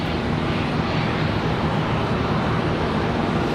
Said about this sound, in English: The one we're about to see depart. American 737 One World livery.